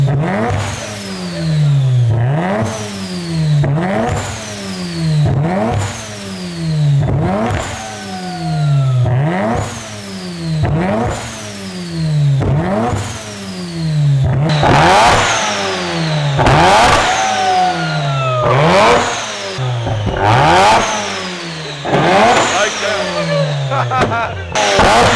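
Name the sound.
turbocharged car engine revving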